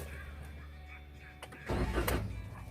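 A car engine cranks and catches in a driving lesson, a short starter whir followed by a louder steady idle rumble, close and fairly loud after a quiet ticking lead-in.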